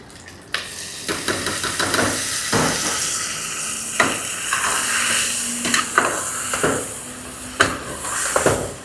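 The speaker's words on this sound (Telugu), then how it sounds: "రెండు నిమిషాలు మగ్గాలండి పచ్చిమిర్చి పేస్ట్ వేసిన తర్వాత" Green chili paste sizzles and hisses loudly in a hot pan with ginger-garlic paste, a close steady fry broken by repeated scraping stirs of a spoon.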